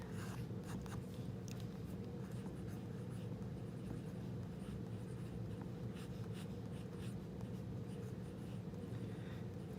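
A pen scratches across paper in quick, soft strokes while a cartoon character is drawn, faint and close over a constant low hum.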